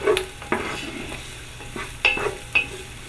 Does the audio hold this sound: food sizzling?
yes